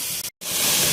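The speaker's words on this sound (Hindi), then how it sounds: "अब मैं इसमें शामिल करूँगी लहसुन अदरक। यहाँ पे मैं 2 चम्मच लहसुन अदरक का पेस्ट शामिल करूँगी और इसको भी मुझे अच्छी तरह प्याज के साथ फ्राई करना है।" Garlic-ginger paste frying with onions in hot oil hisses loudly and steadily, with a brief break in the sound before the sizzle resumes.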